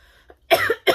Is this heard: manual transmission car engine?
no